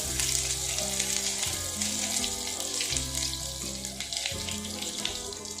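Mustard oil heats in the leftover oil from frying prawns, a continuous close crackling sizzle over a low steady hum.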